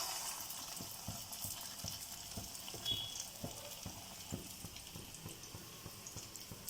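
Ulundhu vadai batter fries in hot oil with a soft, continuous sizzle and scattered small crackles, steady and fairly quiet throughout.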